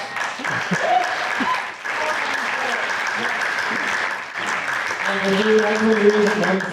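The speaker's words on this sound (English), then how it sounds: "Clap for us." Studio audience applause in a music session setting, a steady crowd clapping that carries on throughout with a short dip partway, while people talk and hum over the clapping near the end.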